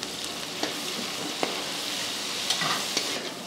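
Tomato and masala fry in a pan for a restaurant-style chicken fry, giving a steady close sizzle with a few sharp scrapes of stirring and no voices.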